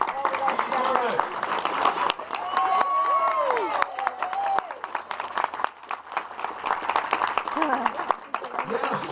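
An audience at an outdoor July 4th gathering rises and applauds, a steady roll of crowd clapping with some cheers lasting several seconds, mixed with voices talking over it.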